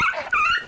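A dog lets out a short, close, high whimpering yelp in two quick cries.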